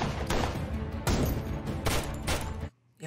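Heavy bursts of gunfire crack out almost continuously in a Reacher season 2 shootout among cemetery headstones, loud and dense before cutting off briefly at the end.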